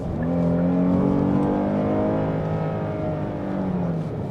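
A 2021 Kia Carnival accelerating on the road, its engine note rising steadily under continuous road and tyre noise, heard from inside the cabin with no talking.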